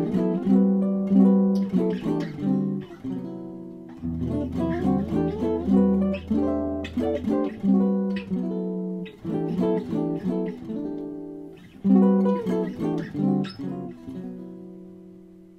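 Jazz guitar chord comping, sustained chordal voicings ringing in a steady unhurried rhythm, close and clear with no talking.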